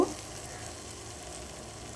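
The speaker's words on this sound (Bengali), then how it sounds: "মশলাটা আমার অনেকটাই ভাজা হয়ে এসছে, তেল বেরিয়ে এসছে।" Spice paste frying in oil in a pan while cooking an aar fish curry, a soft, steady sizzle with faint stirring, low and continuous with no talking.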